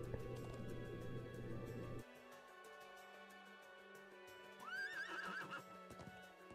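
A horse neighs in Trails of Cold Steel 2, a single whinny rising out of quiet game ambience after a burst of busy noise, with faint clip-clop around it.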